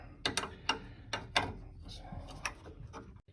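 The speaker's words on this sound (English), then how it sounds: "we'll start to take this off by using a 12mm wrench" A 12mm wrench working a bolt loose during horn replacement on a Honda Civic gives a series of sharp, close ratcheting clicks and metallic clacks at uneven intervals, fairly quiet.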